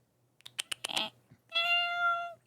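A person imitates a cat's meow, voicing one drawn-out, fairly close mew after a few short clicks and breathy sounds, with no talk over it.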